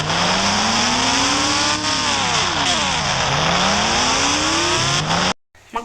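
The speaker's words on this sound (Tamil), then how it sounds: "பெனாலியோட சவுண்டு நல்லா இருந்திருக்கும்னு நினைக்கிறேன்" A Benelli motorbike engine in an Indian bike simulator video game revs loudly and continuously, its pitch climbing, dipping and climbing again before cutting off abruptly near the end.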